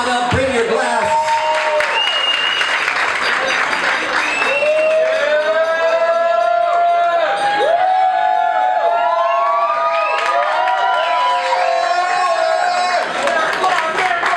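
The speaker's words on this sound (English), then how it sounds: "Keep the applause going for Leo." A crowd at a toast for a brother and friend claps steadily while loud whoops and whistles rise and fall across it, close and dense throughout.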